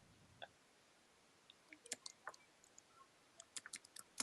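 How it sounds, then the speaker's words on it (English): Fast typing on a keyboard, faint and somewhat distant, with scattered irregular clicks that cluster into quick bursts in the second half against a quiet background. "Panda's typing like crazy over there."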